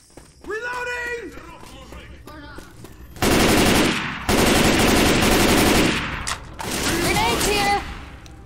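Left 4 Dead 2 combat on a modded custom map: bursts of loud, rapid automatic gunfire in long sustained stretches, with shouting voices and weapon reload sounds between bursts.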